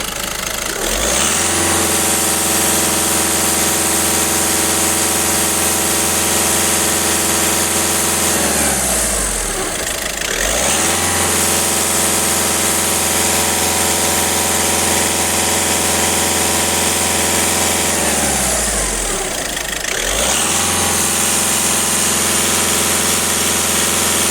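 A VW Touran 1.6 TDI diesel engine revs hard and holds high, with two drops back toward idle before climbing again, loud and close with no talk.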